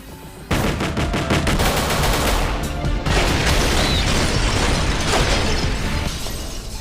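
Anime robot fight with dense gunfire and explosions, loud and continuous after a brief quieter start, rapid shots and booming blasts layered over one another with no pauses.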